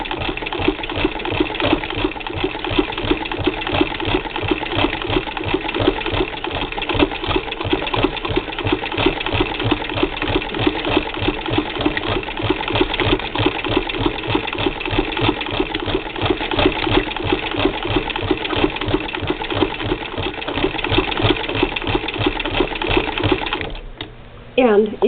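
1937 Singer 15-88 sewing machine doing free motion quilting, a steady rapid needle clatter running continuously and close, with a faint voice underneath, stopping just before the end.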